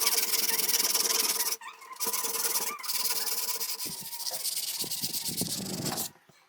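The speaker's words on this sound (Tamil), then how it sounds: "அதனால சாஃப்டான உப்புத்தால கட்டையில சுத்தி தேய்ச்சிடலாம்" A sandpaper-wrapped block rubs back and forth over dried metal paste on a refrigerator door, making close, loud, continuous rasping strokes with short pauses between passes.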